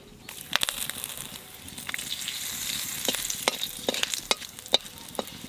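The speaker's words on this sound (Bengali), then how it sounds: "মাছ ভাজা তেলের মধ্যে দিয়ে দেবো লং," Cloves, cinnamon, cardamom and bay leaf crackle in hot oil left from frying fish, a lively close sizzle with sharp spattering pops and occasional stirring clicks, no talk.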